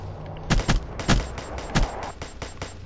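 HLX gunfire in the Black Ops 3 multiplayer game cracks out in several sharp, loud bursts of rapid shots, closely spaced with short gaps, with no talking.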